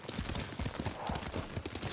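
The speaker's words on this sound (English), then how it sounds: "Lord Sakai taught me to ride a horse." Horse hooves clip-clop in a steady trotting rhythm in the samurai game Ghost of Tsushima, close and fairly loud, with a faint whinny and some game ambience underneath.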